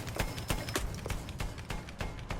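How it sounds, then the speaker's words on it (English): A horse gallops in the Battlefield 1 beta video game, its hooves drumming in a quick, repeated clip-clop rhythm that is close and loud throughout. "A horse."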